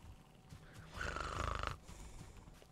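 A skeleton enemy in Valheim gives a faint snoring, wheezy rasp that swells in the middle and fades, a single drawn-out breath heard quietly in the game.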